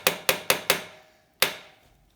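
A hammer taps a bike's metal front rack into shape with four quick, sharp, ringing blows in a steady rhythm, a short pause, then one more strike, each decaying quickly, close and alone.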